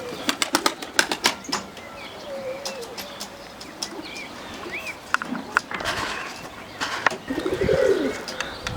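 Performance pigeons (perdeli, long-flying tumbler type) take off and fly close by, with repeated sharp bursts of wing flapping and claps mixed with cooing and chirps from other birds.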